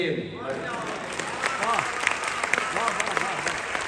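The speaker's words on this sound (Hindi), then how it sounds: "तालियां जरा हाथ उठाकर बजा दीजिएगा" Audience applause at a Hindi storytelling recital of Krishna and Arjuna, steady crowd clapping with talk and voices running underneath.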